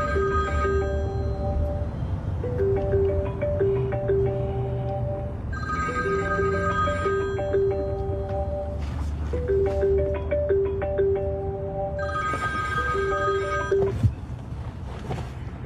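A telephone rings on and on unanswered, a melodic ringtone repeating in regular bursts with short gaps, loud and close, in a movie scene.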